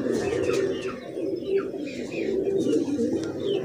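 Sialkoti pigeons coo steadily and close by in a continuous low, rolling murmur, with a few faint chirps above it and no talking.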